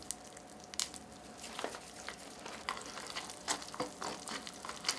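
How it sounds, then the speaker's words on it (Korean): Soft bubbling and fizzing of simmering cup ramen with blue crab added, with quiet crackles and occasional stirring clinks close by. "끓는 소리 난다."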